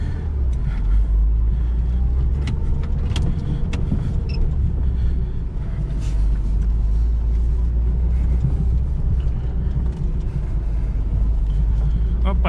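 A Lada Niva drives along a forest track, its engine giving a steady, loud low rumble throughout, with scattered knocks and rattles from the suspension on rough ground; someone talks over the engine noise.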